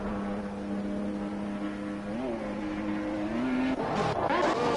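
Haas and McLaren Formula One cars dueling in a racing video game, steady loud engine drones that hold pitch, then rise and shift as the cars accelerate and change gears, with no talking.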